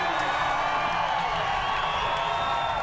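A large X Games freestyle motocross crowd roars and cheers continuously at close range, a dense, steady wash of voices and whoops with no pauses.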